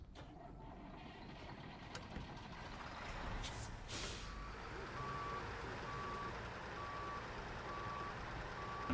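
A video game truck idles with a low engine rumble, then its reversing alarm starts a steady run of evenly spaced beeps after a brief hiss of air brakes, faint and without voices.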